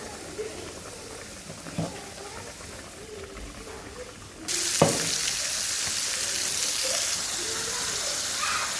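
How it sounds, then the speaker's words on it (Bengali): Onion, garlic and dried chili fry in oil for radish greens, a soft steady sizzle that grows louder halfway through as more goes into the pan, with a faint clink of stirring. "পেঁয়াজ রসুন আর শুকনো মরিচ দিয়ে দিলাম তেল দিব পেঁয়াজটা ভাজা হয়ে গেলে শাকটা দিয়ে দিব"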